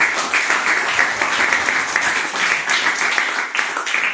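An Indonesian church congregation applauds together, producing loud, continuous, densely packed clapping that fills the hall evenly from start to finish.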